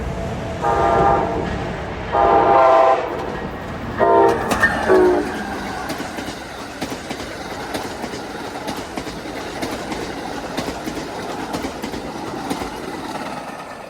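An Amtrak PO90-2 train speeds through North Collier Yard, with loud, repeated blasts of the horn at the start giving way to a steady roar and rumble of rail cars rolling past close by.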